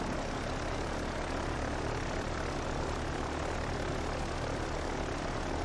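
Steady droning roar of Avenger torpedo bomber engines in the Pacific naval combat game Victory at Sea Pacific, a continuous loud propeller hum holding level throughout with no voices.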